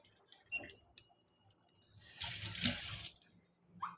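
Water from a tap fills a sink in a home kitchen, with a few soft clicks and splashes before a louder burst of rushing water near the middle, heard up close without speech.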